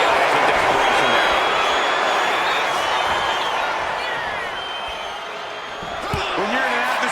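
Loud, dense arena crowd roar from a WWE 2K26 wrestling match, a steady wash of cheering and noise that dips slightly midway and swells again near the end, with a few sharp impacts.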